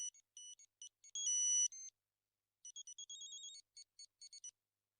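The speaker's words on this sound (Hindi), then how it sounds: "फोन भी बज रहा है।" A phone ringtone of bright electronic beeps plays a short melodic phrase, pauses, then repeats with a quick string of tones.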